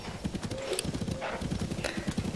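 Horses clip-clop steadily in The Legend of Zelda: Tears of the Kingdom, rapid hoof beats rolling along with a low rumble and occasional whinny-like tones throughout.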